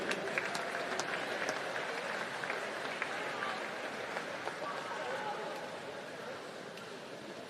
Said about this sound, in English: Round of applause again for our Para-Pan-Pacific Championship team.